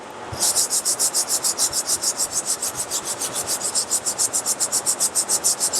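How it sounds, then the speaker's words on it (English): Sandpaper rubs back and forth across the front of a wooden board, a close, steady rasping that pulses in a fast regular rhythm of strokes for several seconds, with no talking. "I'm just going to sand the front a little bit"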